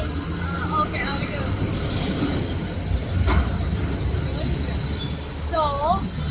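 A metro train runs through a station with a steady rumble of wheels on rail and a few brief squeals, loud and continuous throughout.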